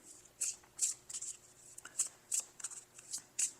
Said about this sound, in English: my hands are cold, so the cards are sticking